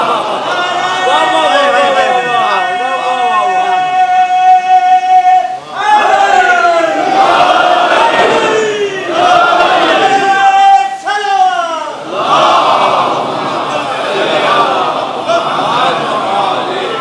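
A large crowd at a Muharram majlis chants a religious slogan in loud, rhythmic unison bursts, repeated several times with brief pauses between.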